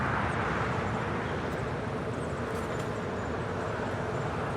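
A JetBlue jet departing Los Angeles International Airport for New York gives off a steady, broad engine roar from some distance, with no break over a few seconds.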